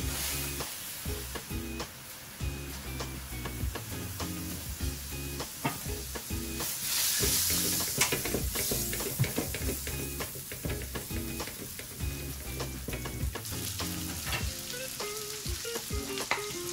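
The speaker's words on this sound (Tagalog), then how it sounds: "So ilalagay na natin itong ating butter, guys." Butter sizzles and fries in a pan, a close, steady hiss broken by frequent scraping and clacking as a utensil stirs it, with no one speaking.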